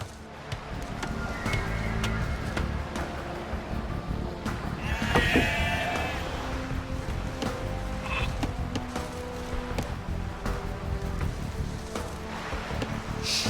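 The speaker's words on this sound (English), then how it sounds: "You've found some sheep." Sheep bleating in the Age of Empires 2 strategy game, several short wavering bleats scattered over a busy bed of game ambience and soft pattering effects.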